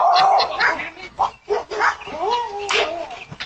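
A dog barks and yips in a tense confrontation, with short sharp barks and whimpers mixed with loud, agitated human speech.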